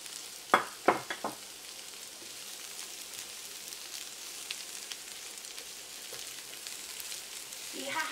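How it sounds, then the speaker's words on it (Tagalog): Carrots, green beans and cabbage sautéing in a pan give a soft, steady sizzle, with a few sharp clatters from the vegetables dropping in at the start. "Igisa na natin yung gulay, yung carrots. Yung green beans."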